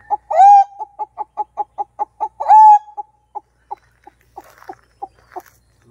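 A person imitates a wild junglefowl rooster, voicing a fast run of sharp clucks broken by two drawn-out crowing calls, loud and close, with the clucks thinning out toward the end.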